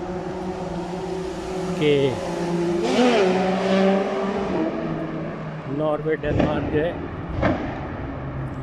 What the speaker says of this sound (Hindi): ये जो आपको आवाज़ें आ रही हैं मोटरसाइकिल की हैं